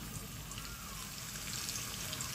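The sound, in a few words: onion frying in oil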